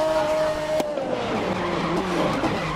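Racing car in the video game GRID, engine droning loud and steady with a sharp transient as it brakes hard, then a rising tonal whine and scrubbing tyre noise that fits a skid, continuous for under three seconds.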